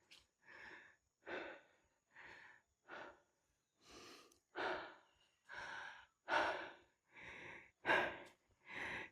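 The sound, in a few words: heavy panting breath after hiking uphill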